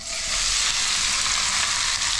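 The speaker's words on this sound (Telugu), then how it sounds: "ఇక ఉల్లిపాయ ముక్కలు వేసుకుందాం." Chopped onions frying in hot oil with cumin and curry leaves, a loud, steady hiss of sizzling close by with no talk.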